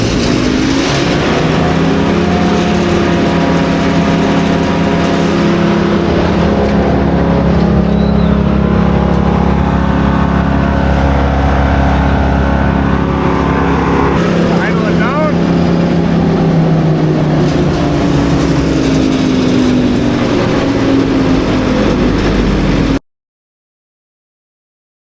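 A wood chipper's turbocharged engine runs steadily after start-up, a loud continuous drone with a low rumble and a slight rise in pitch partway through, holding constant before cutting off abruptly near the end.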